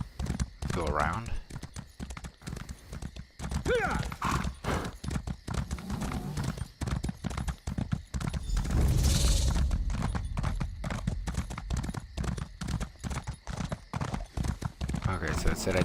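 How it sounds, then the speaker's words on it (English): Horse galloping in the video game Elder Scrolls Online, a steady run of hoofbeat clip-clops under near-constant talking, with a brief whinny and a louder rumble midway. "Slowly galloping there"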